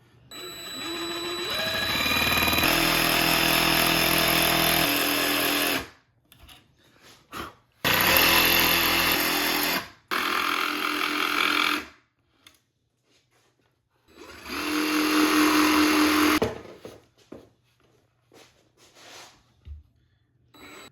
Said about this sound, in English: We're just going to fit our jigsaw in here and slowly just make a cut.